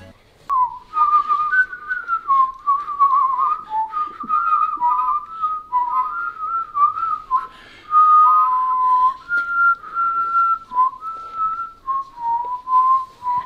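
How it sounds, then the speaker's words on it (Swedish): A man whistles a wavering tune in a home kitchen while baking milk chocolate slices, clear and close, in short melodic phrases separated by brief breaths. "Pappa, du har ju visslat i hela ditt liv."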